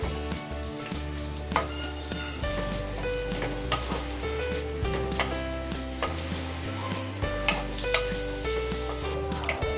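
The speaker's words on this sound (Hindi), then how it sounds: "4 लार्ज बड़े प्याज चाहिए, जिसे हम काट के हम इसे फ्राई करेंगे" Onions fried in oil for a Sindhi biryani, with a bright crackling sizzle and scattered stirring taps over a loud, steady low background drone from start to finish.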